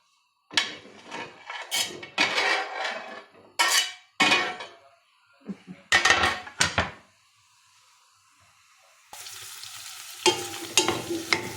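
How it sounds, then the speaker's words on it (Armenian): Potatoes and onion frying in butter in a pan, with bursts of scraping and stirring and a sizzle that stands out near the end, fairly close. "Թողնենք մի քիչ տապակվեն, կարտոֆիլն ու սոխը"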